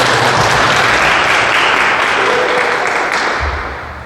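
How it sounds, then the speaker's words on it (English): Audience applause at a youth of the year competition for a boys and girls club, steady and loud throughout with a dense wash of many hands clapping, tapering slightly near the end. "Can we give Ivory a round of applause for all of them?"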